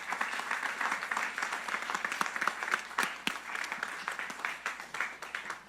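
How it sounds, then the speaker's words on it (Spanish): A crowd at a church service applauding steadily for several seconds, dense overlapping claps with scattered louder individual hits, fairly close. "Dale un aplauso al Señor."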